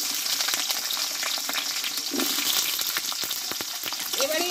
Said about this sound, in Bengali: এবার এই আলুটা একটু ভালোভাবে কষিয়ে নেব।